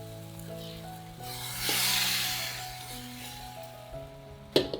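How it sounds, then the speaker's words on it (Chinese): Pork and broth are poured into a preheated clay pot and burst into a loud, hissing sizzle that swells and then settles, ending with a sharp clink over a faint musical hum. "这时候我们连汤带肉倒进预热好的砂锅里"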